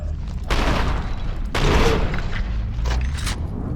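Heavy gunfire bursts from the first-person shooter FEAR 2, with loud booming shots around half a second and 1.5 seconds followed by sustained rattling fire and mechanical clatter through the rest.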